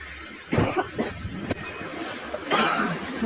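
Several sharp coughs break out in bursts, with a harsh cough near the start and another fit toward the end over a low background hum.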